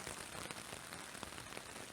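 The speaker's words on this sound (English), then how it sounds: "my hope for a rain-free night has not come true. It's really coming down all of a sudden" Heavy rain pours steadily onto a tent at night on the Pacific Crest Trail, a dense, continuous patter of drops close overhead with no voices.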